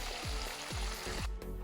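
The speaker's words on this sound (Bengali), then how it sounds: "মুরগিটাকে ভেজে নিলাম" Whole chicken frying in hot oil for biryani, a dense continuous sizzle close up, with a few low knocks as the bird is moved in the pan.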